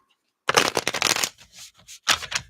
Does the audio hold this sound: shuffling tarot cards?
yes